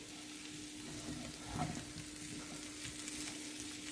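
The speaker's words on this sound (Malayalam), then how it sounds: "ഉരുളക്കിഴങ്ങുകൾ ഇട്ടു. അതും കൂടെ കൂട്ടി ശരിക്കും ഒന്ന് ഇളക്കി കൊടുക്കാം." Potatoes coated in masala for achari aloo are stirred in a frying pan, a faint, even sizzle with a brief louder scrape near the middle, no voices present.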